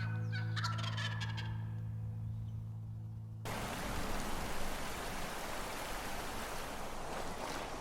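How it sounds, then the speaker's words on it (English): Wild turkey gobbling in the Michigan woods during a spring hunt, a short rattling call at moderate distance over steady background noise, then broadband rain-like hiss takes over. "gave us a little gobble there"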